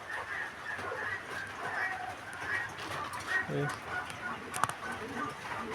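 Fancy pigeons, including Jacobins, coo softly among other fowl clucking nearby, a low, murmuring chorus under someone speaking.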